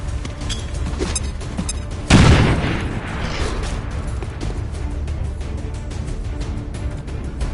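A bomb explodes in the video game XCOM 2: War of the Chosen with a single loud, close boom, then a fading rumble under steady background game sound.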